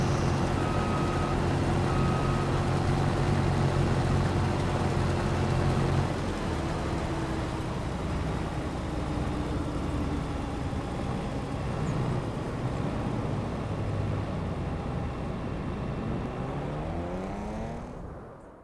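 A tractor engine in a farming video game drones steadily and loudly, with a constant hum that shifts in pitch partway through, then fades toward the end.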